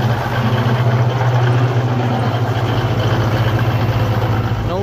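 A truck engine idles steadily with no exhaust leaks, its low even rumble and faint pulsing loud and close from start to finish.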